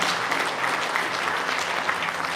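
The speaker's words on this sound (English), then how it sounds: "let's give another round of applause to Sergeant Christopher D. Champion." An audience at a police department promotion ceremony gives a round of applause, a steady, even roar of many hands clapping that holds at moderate loudness throughout.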